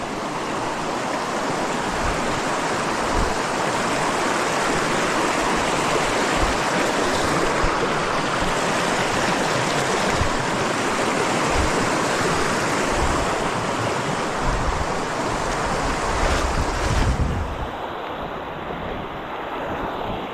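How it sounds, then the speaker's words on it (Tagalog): Natural spring water flows beside a riverside house, a loud continuous rushing wash mixed with wind buffeting on the microphone, steady throughout and easing slightly near the end, with no speech. "Ayun yung bukal. May bukal po din eh."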